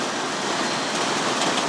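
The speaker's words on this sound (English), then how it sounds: "I think I'm just gonna sit here and listen to the rain and do nothing." Steady rain drums on the roof of a van, a dense, even hiss close by with no voices.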